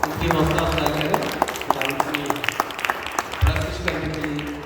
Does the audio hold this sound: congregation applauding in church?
yes